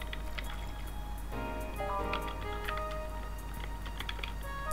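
Water trickles and drips from an office water cooler in the video game Yuppie Psycho, a steady close filling sound with small clicks and drips over a low constant hum.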